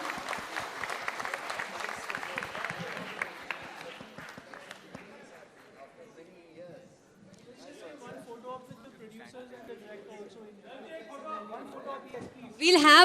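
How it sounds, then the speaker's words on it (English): Crowd at a film trailer launch event breaks into loud, dense applause that fades after a few seconds into quieter murmuring and background sounds, with a sudden loud burst at the very end. "Give them a huge round of applause,"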